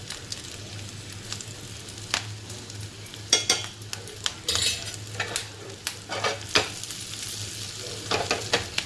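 Stuffed bell peppers fry in a pan over low heat with a steady soft sizzle, while a utensil scrapes and taps the pan at irregular intervals, close up with no voices.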